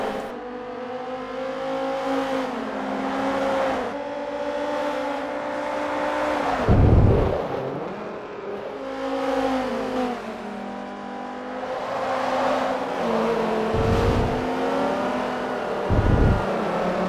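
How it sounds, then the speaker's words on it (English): Viper race cars in a video game race lap after lap, their engines whining and revving in repeated rising and falling sweeps, with a few sharp bursts as cars pass close. "Nandra gets loose and pushes out, allowing Surf to take that position back."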